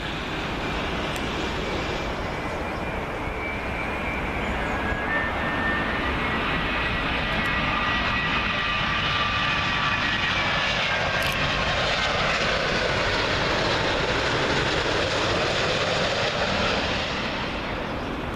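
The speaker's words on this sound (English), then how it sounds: "Virgin 787 Dreamliner in from Seattle, Washington" A Virgin Boeing 787 Dreamliner arrives from Seattle on approach to Heathrow runway 27L, its engines a steady, loud broadband roar that holds throughout with a faint high whine riding on top.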